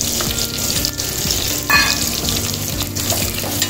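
Chopped onion, a single large one, frying in a hot pan for a tomato gravy, giving a steady close sizzle with brief stirring scrapes throughout, alone without talk.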